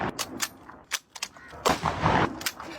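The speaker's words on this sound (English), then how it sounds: "现在试一下 98K 的威力。" Kar98k bolt-action rifle firing in a video game: a series of sharp, separate cracks spaced irregularly across a few seconds, with a louder burst near the end, close and punchy.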